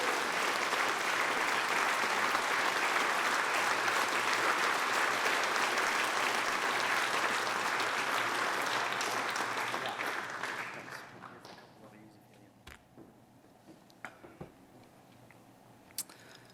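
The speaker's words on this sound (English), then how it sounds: "give them a round of applause" Audience applause at the Saskatchewan Roughriders Plaza of Honour 2022 awards ceremony, a loud, dense roar of clapping that holds for about ten seconds, then fades into quieter room noise with a few scattered claps and small sounds.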